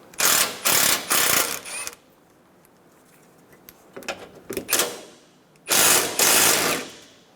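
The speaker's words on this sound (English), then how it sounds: "Remove the two 10mm bolts on the side of this center brace." Rapid metallic clicking of a socket ratchet loosening 10mm bolts on a center brace of a 2000-2006 Toyota Tundra, heard in three close, loud bursts separated by quiet pauses.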